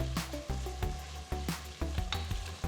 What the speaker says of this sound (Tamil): வெங்காயத்தை நல்ல கோல்டன் ப்ரௌன் கலருக்கு வதக்குங்க.